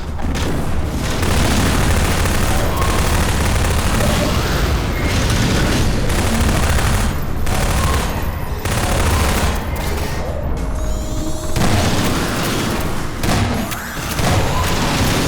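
Grenade blasts and sustained gunfire fill a firefight in the video game Mission Improbable, with loud booming explosions and rapid bursts of shots rolling continuously through the whole stretch.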